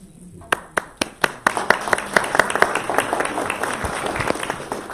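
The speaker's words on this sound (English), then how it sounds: "Hold your applause till the end." Scattered claps from an audience at a poetry reading start one by one and quickly grow into a fuller round of applause, with distinct sharp hand strikes standing out over the building clatter.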